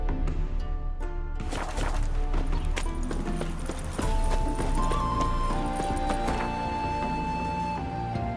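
Horse hooves clip-clopping at a gallop in The Witcher 3, a steady rhythmic beat layered under a dense game music score and ambience throughout.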